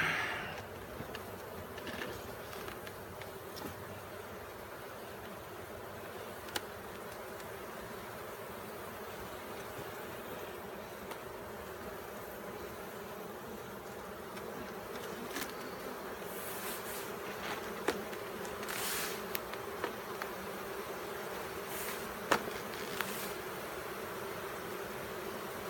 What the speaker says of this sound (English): They're buzzing me pretty good right now. Watch out, bees.